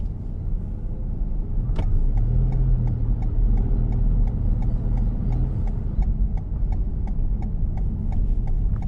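A car rolls slowly along a narrow road during a driving test, its engine a steady mid-level hum with a faint rhythmic ticking, close and continuous with no talking.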